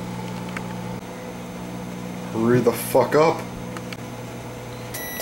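A microwave oven hums steadily, then its motor cuts out and a short series of beeps sounds near the end, while someone speaks briefly in the middle.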